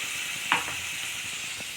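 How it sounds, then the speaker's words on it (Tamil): Onions sizzle steadily in a pan over tempered mustard seeds, a constant close hiss broken by a few faint stirring taps, with no one speaking. "அதுக்கு வந்து இப்போ நான் கடுகு தாளித்து வெங்காயம் போட்டிருக்கேன். இது வந்து கொஞ்சம் வதங்கட்டும்."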